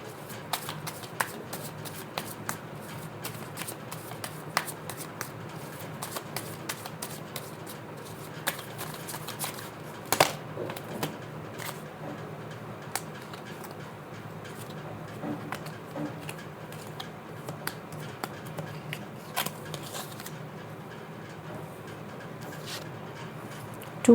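Tarot cards are shuffled and dealt onto a surface, giving a close, steady papery rustle with frequent small taps and snaps of cards landing, with no talking.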